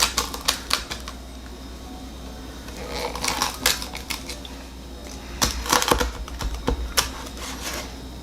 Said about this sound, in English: You guys hear how crispy that was?